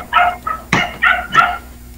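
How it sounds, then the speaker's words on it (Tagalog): Several dogs barking in short, overlapping bursts, a handful of yips and barks spread over two seconds, fairly close and loud with no talk. "Daming aso."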